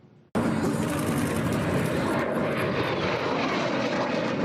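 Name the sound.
airplane flying over Gatineau at air show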